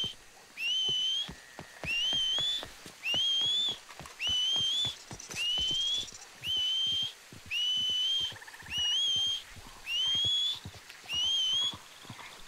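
Repeated two-note whistles, about nine evenly spaced calls, summon a horse in Red Dead Redemption 2, with soft hoof clops and ambient game sounds between them.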